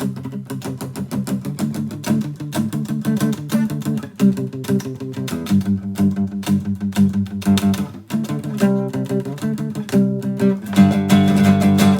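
Fast punk-style palm-muted power chords strummed on a guitar, a dense, driving stream of chugging chords that shift between positions and continue loud and close without pause.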